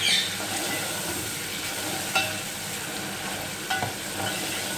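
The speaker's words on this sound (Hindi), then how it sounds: "प्याज के साथ इसको थोड़ी देर हमने भूनना है।" Chicken frying with onions in a pan for a quick cumin chicken curry, a steady close sizzle with a few clinks of stirring, no talk.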